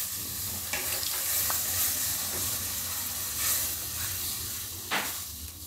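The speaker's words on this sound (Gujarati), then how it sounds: "હવે આપણે આમાં થોડું થોડું દૂધ નાખતા જાઉં ને મિક્સ કરતા જાઉં" Masala pasta sizzling in a pan on low heat as milk is added little by little and stirred in, a steady close frying hiss with occasional spoon scrapes, no talk.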